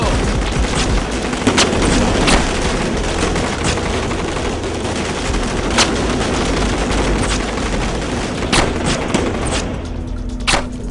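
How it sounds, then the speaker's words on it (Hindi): Gunfire in a Hindi-dubbed Hollywood sci-fi action movie: dense, continuous shots and sharp cracks ring out loud over a busy, rumbling background for about eleven seconds. "फायर करो"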